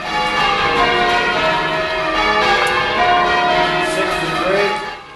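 Church bells ring a continuous change-ringing peal, many overlapping bell strikes in steady rhythm, loud and sustained throughout before easing slightly at the end.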